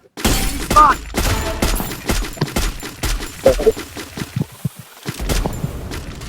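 Gunfire in a shooting video game during a ranked match: sharp bursts and single shots crack in quick irregular volleys, with occasional shattering hits and players' voices in between.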